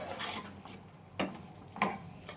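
A spoon stirs stuffed gunda vegetable curry in a pan, making soft scraping and two sharp metallic clinks against the pan in a quiet kitchen.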